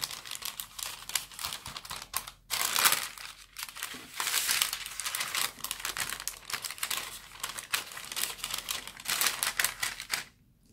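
Baking parchment paper crinkles and rustles steadily as it is used to shape chocolate peppermint fudge, a close, busy crackling that runs nearly continuously with one brief pause.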